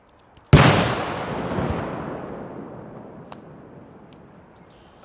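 A single sharp, loud firework blast at a fireworks safety demonstration, followed by a long rumbling decay and echo that fades over several seconds, with a faint pop later.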